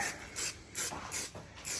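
A car bumper being sanded by hand, heard as a steady back-and-forth scraping rasp with about five even strokes, close and moderately quiet.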